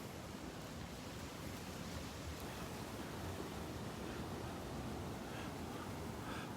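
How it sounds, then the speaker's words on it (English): Strong north wind buffeting the microphone on a Gulf beach at Delnor-Wiggins with waves surging behind, a steady broad rushing noise, fairly faint and unbroken throughout. "Got a pretty good wind coming from the north this morning. The waves are up again."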